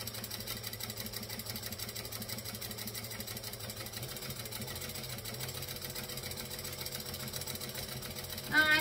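A sewing machine slowly stitches a bag strap for a beanie baguette bag, producing a faint, steady low mechanical hum with a soft even ticking that continues throughout and ends in a brief louder bump.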